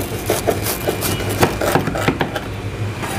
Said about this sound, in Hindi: तो आवाज़ सुन के आपको पता चली क्या होगा कि ये कितनी क्रंची सैंडविच है